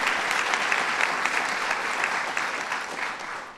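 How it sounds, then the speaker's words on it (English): An audience at a Mother's Day Tea at the White House gives Dr. Jill Biden a sustained round of applause: dense, steady clapping from many hands that tapers off slightly at the end. "Dr. Jill Biden, let's give her a round of applause"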